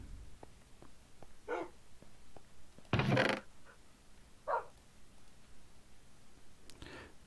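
A dog barks in about four separate sharp bursts spaced a second or more apart. It sounds moderately distant over a quiet background.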